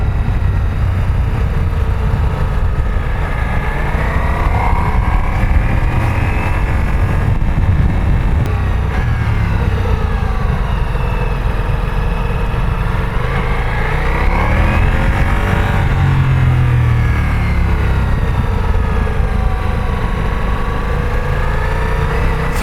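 A Ducati Multistrada V4S motorcycle ridden on Alpine roads, its engine droning loud and steady with rising and falling pitch through throttle changes, mixed with constant wind rush and no talk.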